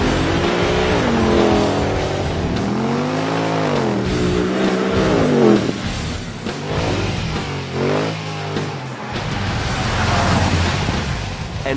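A lowered white Mercedes with a finely tuned exhaust revs up and down several times, its loud engine note sweeping high and low and carrying through the whole passage without talk.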